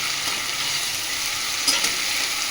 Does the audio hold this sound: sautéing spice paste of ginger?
yes